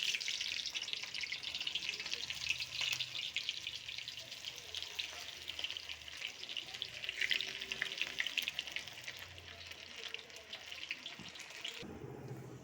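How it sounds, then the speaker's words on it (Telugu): Corn pakoda batter frying in hot oil gives a steady, dense sizzle that holds for several seconds, ending with a brief shift near the close; no one speaks. "నూనె కాగిపోయింది, నేను వేసేస్తున్నా"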